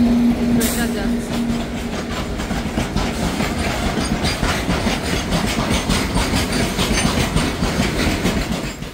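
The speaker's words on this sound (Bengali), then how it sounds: "লেভেল ক্রসিং এ দাঁড়িয়ে গেছিলাম" A train rumbles past a level crossing on a road trip from Kolkata toward East Sikkim, loud and close, with a continuous rhythmic clickety-clack of wagons over the rails and a brief horn-like tone at the start.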